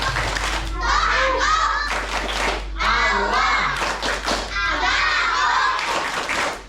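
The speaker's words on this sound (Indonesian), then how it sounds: "Sebelum lanjut ke kelas 5 dan kelas 6, biar semangat, tepuk Islam." Children chant and clap together in the Tepuk Islam rhythmic clapping routine at a children's iftar gathering, with sharp group claps punctuating the sing-song chanting voices in a steady rhythm throughout.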